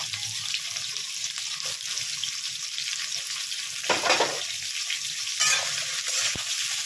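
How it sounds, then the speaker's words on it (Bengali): Ridge gourd pieces frying in oil for jhinge alu posto, a busy crackling sizzle with a couple of louder bursts of spattering and stirring toward the end, no talking. "এই তেলের মধ্যে ঝিঙেগুলোকে দিয়ে দিচ্ছি, দিয়ে আমি ঝিঙেগুলোকে ভেজে নিচ্ছি।"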